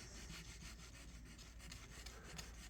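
Fine 2500-grit sandpaper rubs over metal while rust is cleaned from an antique piece being refurbished, producing a steady, close, low-level scratchy rasp with rhythmic back-and-forth strokes and no talking.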